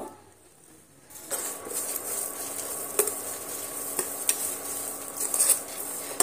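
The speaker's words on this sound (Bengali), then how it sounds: "এবার আমি এগুলো হালকা ভেজে নেব।" Coriander seeds, cumin and dried red chillies lightly fried for a raw mango pickle: after a quiet start, a soft steady sizzle rises, broken by occasional clinks and scrapes of a spoon against the pan, close with no voices.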